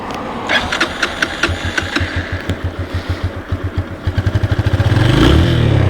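A 2007 Honda FTR 223 motorcycle engine running close by, a steady loud single-cylinder thumping pulse that quickens into a faster rev at the end.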